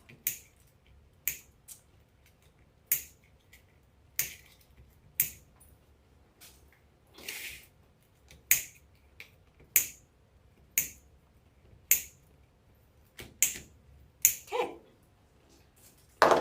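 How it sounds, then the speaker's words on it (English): Ordinary scissors snip zip ties off a fall wreath on a large board, giving about a dozen sharp, close clicks spaced roughly a second apart in an otherwise quiet room. "just take normal scissors and just cut your zip ties with the scissors"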